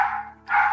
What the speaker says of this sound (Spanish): es mi perro ladrando